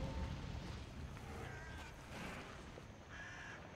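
A bird caws in the video game Darksiders 2, a few faint calls heard over a constant windy, watery ambient background.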